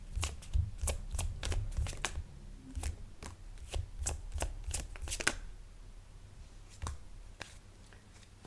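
Tarot cards are shuffled by hand in a quiet room, giving a series of crisp, close riffles and slaps with brief pauses between bursts.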